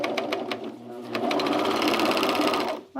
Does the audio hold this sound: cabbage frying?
no